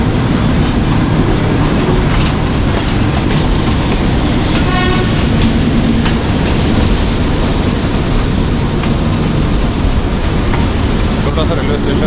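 A 267UP Rawalpindi Passenger train runs in rain between Rawalpindi and Havelian, giving a steady, loud rumble of carriages on a single-line track with faint squeals and rattles throughout.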